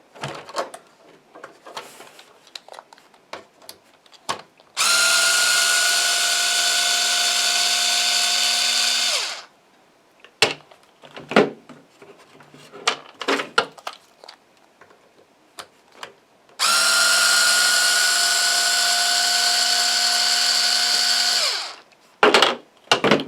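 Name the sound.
removing screws from Traxxas Rustler bumper with power drill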